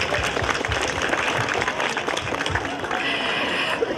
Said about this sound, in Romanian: pe care vă rog să o aplaudăm.